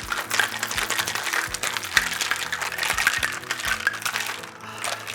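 A caramel apple martini shaken in a cocktail shaker, steady rattling and sloshing of ice going on continuously for several seconds at moderate loudness, with no speech over it.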